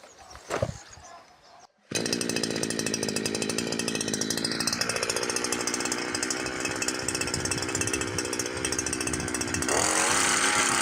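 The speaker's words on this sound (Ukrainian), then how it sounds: "Включаємо косу." A petrol brush cutter fitted with a weeding hoe attachment starts and runs: a brief rustle, then a loud, steady, close two-stroke engine roar that shifts pitch and rises slightly near the end, with no talking.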